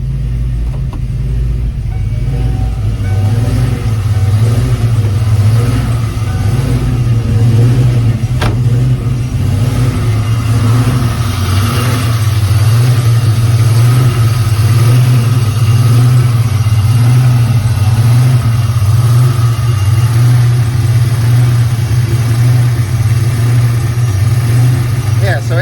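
A turbocharged 302 Mustang GT45 engine idles while warming up, a steady low rumble with a constant drone, close and loud throughout without pauses.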